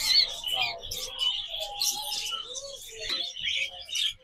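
Many caged birds at Mirpur bird market chirp and tweet together in a dense, continuous chorus, with short coos and calls close by and a faint voice in the background.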